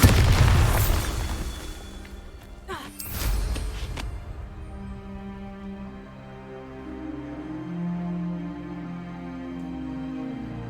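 Bombarda spell explosion from Hogwarts Legacy, a heavy booming blast at the start with a second burst around three seconds, each followed by a rumbling decay under sustained game music and ambience.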